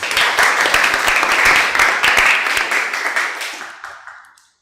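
Students in a classroom clap for a classmate's answer during a lesson, a short lively burst of many hands that thins out and fades to silence.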